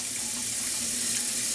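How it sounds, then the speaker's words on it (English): Hot water runs steadily from a tap into a container, filling it for beer brewing, a continuous close rushing stream with no talk. "I'm gonna fill up with some hot water here."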